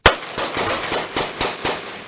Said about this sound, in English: became a morning filled with gunfire